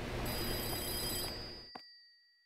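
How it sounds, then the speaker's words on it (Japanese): A telephone rings in the video game The Bathhouse, a short burst of bright, rapid bell ringing that cuts off abruptly with a click and leaves a fading tone. "で、電話が鳴ってるね。"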